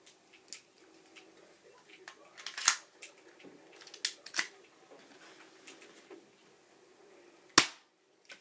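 HG1 BB pistol fired at a cardboard box, giving scattered sharp snapping clicks of varying loudness, the strongest crack near the end, in a quiet room.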